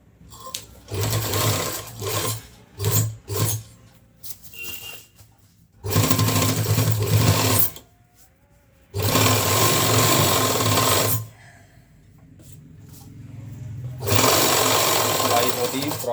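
A sewing machine stitches a zip onto a coat in several bursts of rapid running, some short and some sustained for a few seconds, separated by brief pauses.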